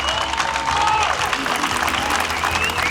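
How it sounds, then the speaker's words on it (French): A crowd applauds raid participants at a trophy event, dense continuous clapping with cheering voices and chatter mixed in. "Vous méritez ces applaudissements"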